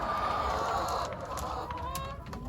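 Backyard hens clucking and murmuring around a coop in the morning as they wait for their eggs to be collected, a continuous close flock chatter over low background noise.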